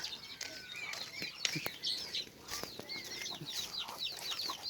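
Backyard chickens and ducks kept as farm animals cluck and call together, a busy layered chorus of short chirps and clucks with occasional sharper notes, moderately near and steady throughout, no talking.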